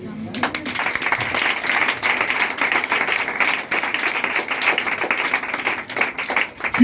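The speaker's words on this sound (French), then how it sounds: "Est-ce que tu peux l'acclamer?" Audience applause during a church sermon, dense sustained clapping from many hands at moderate loudness, briefly dipping midway and near the end.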